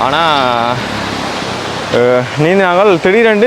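A waterfall pours steadily, a continuous broadband rush of falling water under someone speaking Tamil over much of it.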